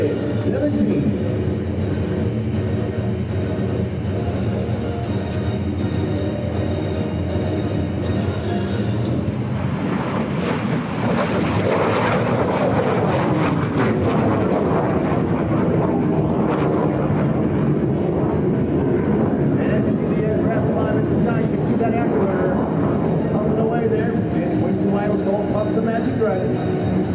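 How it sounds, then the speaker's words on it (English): A MiG-17 jet fighter, powered by a VK-1F engine, makes a flying pass at an air show. Its loud roar builds and swells midway through, and an announcer's voice over a PA runs throughout. "coming in from your right, it's Randy Ball and the MiG-17"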